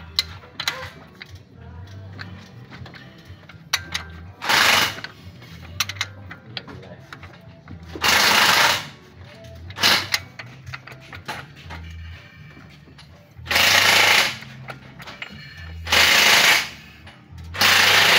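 A ratchet wrench turning the crankshaft of a 2001 Isuzu Panther Touring engine through one full revolution: repeated rapid clicking bursts alternate with quieter mechanical ticks and scrapes, close up, with no talking.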